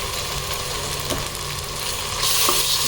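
Ginger garlic paste sautéing with onions in a pan for biryani, a steady close sizzle and crackle that swells louder near the end, with faint stirring and no talking.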